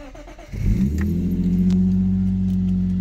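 A Lexus IS200 engine cranks and catches after an oil change, then settles into a steady, close idle hum that holds to the end.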